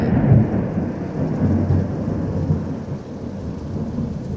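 A Hill Country thunderstorm rumbles with deep, rolling thunder over a steady wash of heavy rain, loud and continuous throughout, with no voices.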